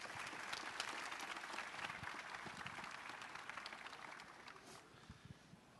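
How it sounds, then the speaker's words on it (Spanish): An audience applauds at a graphic design conference in Mexico, a dense wash of clapping that starts full and slowly thins and fades toward the end. "Un fuerte aplauso para ellos, por favor."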